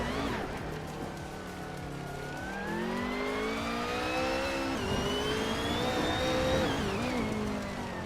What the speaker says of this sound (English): driving a Ferrari 288 GTO, a classic supercar known for its speed and style